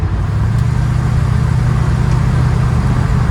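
A 1965 Ford Mustang engine drones loudly and steadily while the car is driven under load, a close, continuous low rumble with no voices present.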